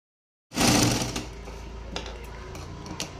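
A sewing machine runs steadily, stitching fabric for a small Laddu Gopal summer dress, starting abruptly with a loud whirring burst that settles into an even, continuous mechanical hum with faint clicks.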